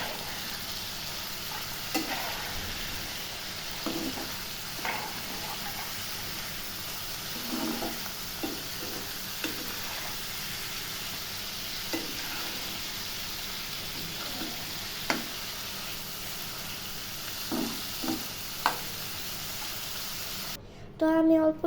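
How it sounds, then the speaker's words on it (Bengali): Large freshwater prawns sizzle steadily in a frying pan while a spatula stirs them, producing intermittent scraping knocks over the continuous hiss, with a brief sharper noise at the very end. "ভালো করে এখন নেড়ে নিব চিংড়ি মাছগুলোর সাথে, যাতে এটা সেট হয়ে যায় এটার সাথে।"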